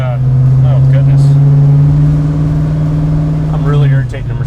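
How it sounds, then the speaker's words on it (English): A 1967 Mercury Cougar S-Code XR7 drones loudly while driving, its steady low engine hum holding for several seconds before easing off, with voices chatting briefly over it inside the car. "Yeah, it's a little drony. It's a loud car, but that's okay."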